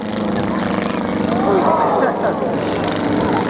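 A propeller aeroplane flies at the Shoreham Airshow, its loud, steady engine drone close and continuous throughout, with a voice speaking over it.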